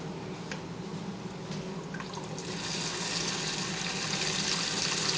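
Distilled water, purified by reverse osmosis, pours steadily into a bucket, a continuous broadband wash of liquid noise that grows slightly louder and fuller partway through, with no talking.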